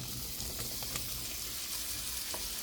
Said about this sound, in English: Now we'll dump our smoked sausage in.